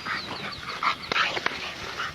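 A 3.5-month-old pit bull terrier puppy gives soft, brief whimpers and small yips, a few close high-pitched cries over a quiet background.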